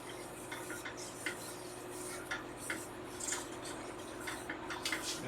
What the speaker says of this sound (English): make sure that you just keep stirring it